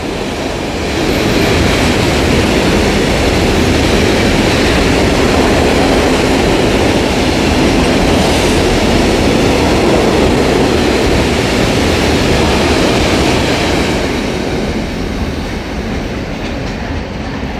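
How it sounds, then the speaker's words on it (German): A train rushes through Braunschweig main station at night at speed, with a loud, sustained roar and rattling of wheels on rails that fades slightly toward the end. "auf der 6 haben wir eine Zugdurchfahrt. Relativ schnell."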